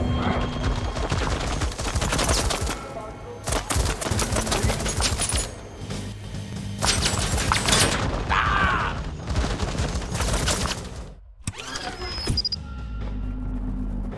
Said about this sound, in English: Didn't know that was a turret.